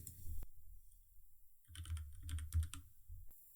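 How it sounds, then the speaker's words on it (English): Someone types on a computer keyboard: a short burst of quick, quiet key clicks follows a moment of silence, then stops again. "I'm going to type in YouTube"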